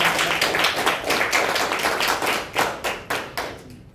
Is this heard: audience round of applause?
yes